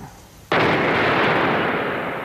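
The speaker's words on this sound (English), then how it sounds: "Joker's gun." The Joker's gun from Batman (1989) goes off in a single sudden, loud blast that roars on and slowly fades, after a quieter lead-in.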